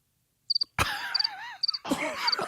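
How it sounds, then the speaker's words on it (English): Cricket chirps played as a comedic sound effect after a joke, short high trills repeating in quick pulses over a swelling ambient night-time backdrop, clear and close with no talking. "I got the crickets!"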